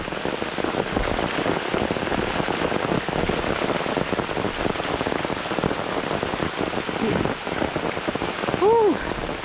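Heavy rain pouring on a forest hiking trail and pattering on an umbrella, a dense, steady hiss of drops throughout, with a brief whistle near the end.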